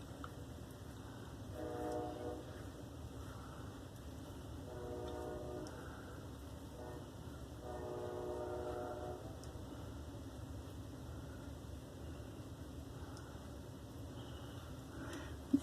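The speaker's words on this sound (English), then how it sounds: "what would my shave video be like without any train whistles in the background?" Train whistles sound in the distance, three harmonic horn blasts a few seconds apart over a steady low rumble and hiss, with quieter background noise afterward.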